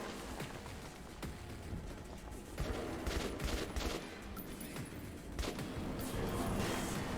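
Rapid bursts of assault rifle and revolver gunfire in the post-apocalyptic shooter Metro 2033, loud and dense, firing in sustained volleys with sharp peaks throughout and no talk over it.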